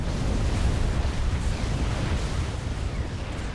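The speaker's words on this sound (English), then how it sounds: "Very successful bombing run across that formation." Bombers in Supreme Commander drop a bombing run of explosions across a unit formation, heard as a continuous loud, rolling rumble of overlapping blasts with no pauses.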